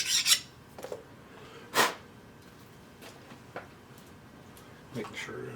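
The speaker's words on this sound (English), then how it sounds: "Deburr it a little bit." A small part of a lathe quick-change tool post is deburred by hand, with a few short, sharp rasping file strokes separated by quiet pauses, close and distinct against a low background.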